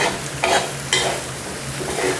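Rice for Thai soy sauce fried rice sizzles steadily in a hot wok as a spatula scrapes and tosses it in a few separate strokes, close and fairly loud.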